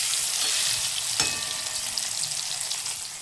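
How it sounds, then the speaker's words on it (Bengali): Cubes of paneer frying gently in a pan, a continuous close hiss of hot oil with a single sharp clink partway through, and no voices. "এবার পনিরগুলো ভাজি, হালকা ভাজবো, হালকা ভাজি।"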